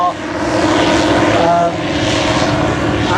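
A rotary-wing aircraft with a rear pusher propeller flies at the Welshpool air show, its loud continuous propeller drone dominating, with a faint announcer's voice over a public-address system underneath.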